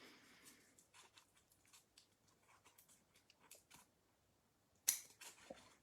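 Scissors snip folded pennant material in a string of quiet, crisp cuts close by, with one sharper louder snip near the end.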